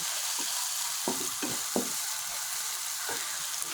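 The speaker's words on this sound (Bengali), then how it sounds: "আমি এই পেঁয়াজ কুচিটা কষাইতেছি" Chopped onions sizzle in a pan with a steady hiss, and a handful of soft scraping stirs break through it.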